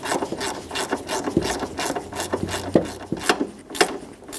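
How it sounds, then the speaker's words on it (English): A socket tightens a 10mm bolt on a 1999-2004 Jeep Grand Cherokee coolant reservoir, giving close, dry repeated ratcheting rasps in quick uneven bursts, with no talk. "That's a 10mm. I'm using a socket. We'll snug it right up."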